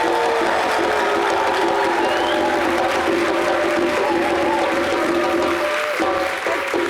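A television studio audience bursts into loud, sustained applause mixed with cheers and whoops, a thick wall of clapping that carries on without pause.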